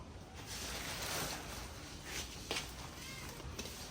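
A pet cat mewing softly and affectionately, a few short meows over steady room noise, fairly close.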